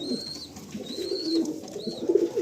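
Pigeons coo softly and repeatedly in a pigeon loft, with several overlapping low throaty calls and a few faint higher chirps.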